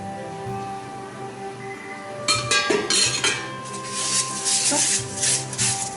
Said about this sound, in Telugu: ఇలాంటి జల్లిది ఒకటి తీసుకొని దానికి లైట్గా ఆయిల్ అప్లై చేయాలి.